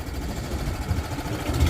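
A running engine drives a Mac Don 35ft header on a farm machine, a steady low rumble with slight surges as the throttle is worked, fairly close and without voices.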